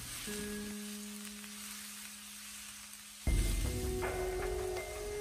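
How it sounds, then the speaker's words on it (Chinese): Lotus root shoots hit a hot wok and are stir-fried over high heat, opening with a faint hiss before bursting into a loud, steady sizzle that continues to the end, with no voices. "这里我们就要开大火翻炒，充分的把藕带里面的水分炒干。"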